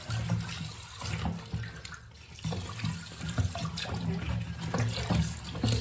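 Tap water runs into a sink being filled to soak hoya cuttings, a continuous close splashing gurgle that swells and dips slightly.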